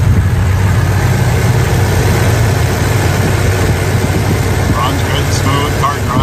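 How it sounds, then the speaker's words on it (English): A muscle car's engine runs at a steady idle, a loud, low rumbling drone held close throughout, with faint higher chirps near the end. "Let's take a listen to the engine."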